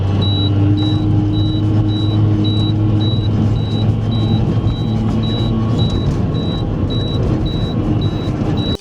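A vehicle with an overheating motor is floored along a straight stretch of rough road. A loud, continuous roaring rumble runs throughout, with a regular high-pitched pulsing beep on top and no talking.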